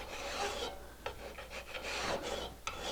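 Burnisher pushed along the edge of a steel card scraper, a few short scraping strokes with a dry rasping texture, close and fairly quiet with brief clicks between passes.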